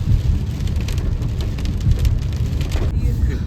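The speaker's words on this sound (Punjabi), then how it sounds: "ਜਿੰਨੀ ਤੇਜ਼ ਮੀਂਹ ਹੈ" Heavy rain pours down in a dense, steady hiss, loud and continuous throughout, with a low rumbling undertone.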